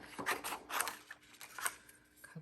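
Scissors cutting out a paper sample, several crisp snips in an irregular rhythm, close and fairly quiet, with no talk.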